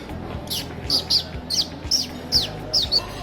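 A man imitates a sparrow with his voice, giving about six short, high chirps in a quick, evenly spaced series, heard alone and fairly close.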